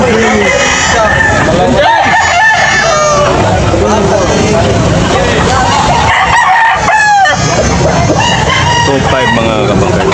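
Roosters crow loudly and repeatedly at a chicken market in Carbon, Cebu, their calls overlapping with clucking fowl and a busy background babble of people talking.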